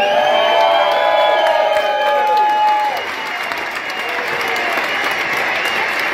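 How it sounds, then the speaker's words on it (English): A large audience bursts into applause with cheers and whoops, loud at first, then settling into steadier clapping after a few seconds. "Large round of applause."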